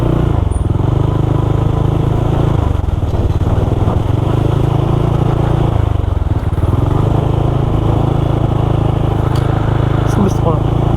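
A motorcycle engine runs loud and close with a continuous rumble while riding toward a parking area after a Sunday solo ride on Marilaque, with faint clatter and voices around it.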